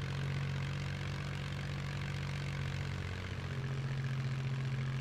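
A steady propeller aircraft engine drones in Just Cause 3, a constant low hum with a strong tonal buzz that wavers slightly midway, moderately loud and heard alone without talk.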